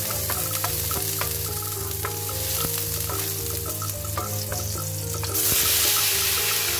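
Onion and garlic frying and sizzling in a pan for bitter melon sauté, a steady close sizzle with stirring scrapes throughout, growing louder and brighter near the end.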